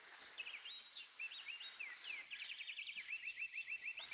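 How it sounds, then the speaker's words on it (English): Birds sing in a 1937 American western film, a faint, distant stream of high warbling and trilling phrases that ends in a quick repeated run of notes, heard over a soft background hiss without talk. "Now, listen to those birds sing."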